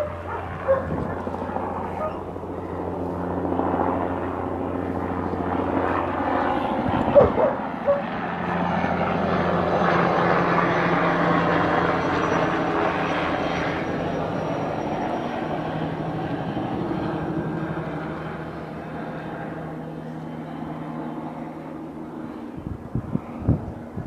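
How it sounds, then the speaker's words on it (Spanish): A Municipal Police helicopter circles over the scene of a drug-vehicle seizure and house search, its steady low rotor drone running throughout beneath a dog barking now and then and people talking. "el helicóptero de la Policía Municipal está sobrevolando el lugar"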